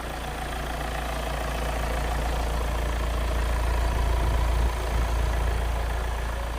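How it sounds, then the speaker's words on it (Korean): A 2018 Hyundai All New Tucson diesel engine idling, a steady low rumble with a faint mechanical clatter, heard fairly close and alone, with no voices. "말끔한 디젤 차량 엔진 소리 좋습니다"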